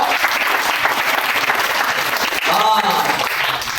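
A church congregation at an anniversary service applauding, steady dense clapping from many hands that fills the room throughout, with a voice briefly audible over it.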